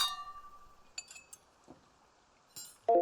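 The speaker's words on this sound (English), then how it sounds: "Sounds like a cheers." Glasses clink together in a cheers at the end of a musical act, a few light, bright chimes spread over a couple of seconds, the last one louder and closer.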